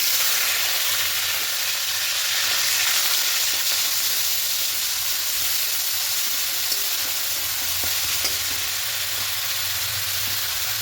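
Onion paste sizzles in hot oil with cumin and a torn bay leaf, a loud, steady hiss of frying close by with faint stirring scrapes, no voices.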